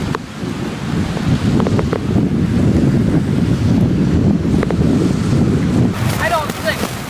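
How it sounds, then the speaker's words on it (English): Steady rushing water of the tidal bore on the river at Moncton, New Brunswick, Bay of Fundy, with wind buffeting the microphone, a broad continuous roar that stays loud throughout. "Here's the tidal bore."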